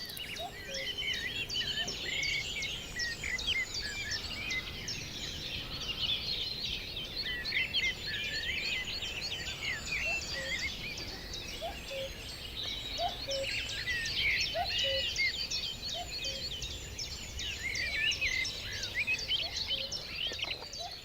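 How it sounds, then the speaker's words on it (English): A dawn chorus of male birds in an open landscape, many overlapping chirps and trills layered over each other, steady and fairly distant, with no talking. "it's only the male bird that's singing, and he sings only one of two songs."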